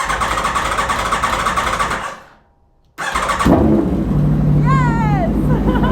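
An Aprilia motorcycle engine catches after a brief silence and settles into a steady, close, loud running note with a low rumble, while a person talks over it.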